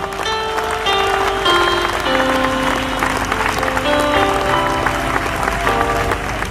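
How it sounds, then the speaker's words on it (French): A church congregation claps loudly and steadily in a dense, sustained burst of applause. Sustained sung or held tones run through it, and voices can be heard underneath. "Acclame d'abord le Seigneur pendant ces temps."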